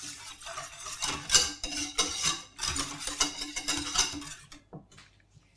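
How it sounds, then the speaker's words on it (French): A metal whisk clatters and scrapes steadily in a bowl, mixing chocolate truffle ingredients, a busy close run of clicks and swishes that fades near the end. "on utilise toujours un fouet, c'est plus simple pour mélanger les ingrédients"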